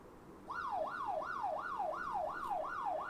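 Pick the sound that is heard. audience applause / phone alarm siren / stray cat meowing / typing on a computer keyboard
phone alarm siren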